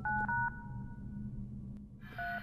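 Phone buttons are pressed on a telephone in a horror video game, giving distinct dual-tone beeps: two quick tones at first, then one more after a pause over a low ambient hum.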